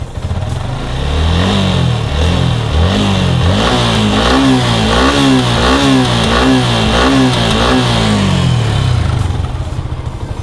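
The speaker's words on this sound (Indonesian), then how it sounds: "Coba kita gas sedikit ya." A Yamaha MX King motorcycle engine is revved repeatedly in a steady rising-and-falling rhythm, loud and close throughout, with no talking, during a radiator coolant change.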